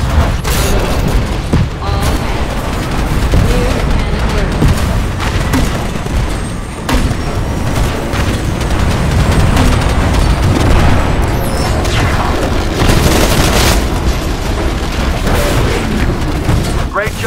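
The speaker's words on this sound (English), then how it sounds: "Cannon just cooled down enough to refire." Cannon fire in the Titanfall campaign on Xbox One: repeated heavy booms and crashing impacts amid continuous battle noise, loud and close, with voices talking over the action.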